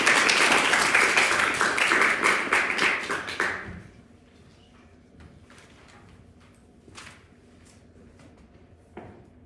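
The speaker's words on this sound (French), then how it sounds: "Veuillez l'applaudir" An audience at a debate match applauds a speaker called to the podium, several seconds of lively clapping that stops abruptly, leaving a quiet room with faint stray taps.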